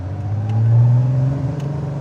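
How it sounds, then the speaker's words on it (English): A 1972 Nissan Skyline engine hums steadily on a road test, a low droning note that swells briefly as throttle is added, then settles back, close and continuous with no talking. "Before we can deliver this 72 Skyline to our client, we have to make sure it passes the road test."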